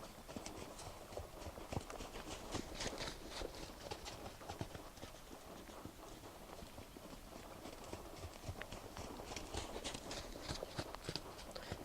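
A horse loping around an arena, its hooves beating a steady, fairly faint clip-clop rhythm on the footing throughout.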